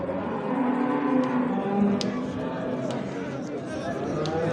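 Cattle at a busy livestock market in Diyarbakır lowing amid a steady crowd murmur, with people chattering nearby and a few sharp clatters rising above the dense, continuous hubbub.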